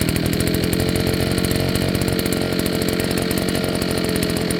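Neotec 52cc gas backpack leaf blower engine running at a steady, loud, buzzing roar close by, continuous for several seconds without a break.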